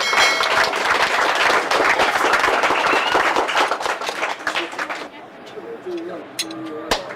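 Loud audience applause at a reunion gathering, thick clapping for about five seconds that then stops abruptly, followed by quieter talk and a few scattered sounds.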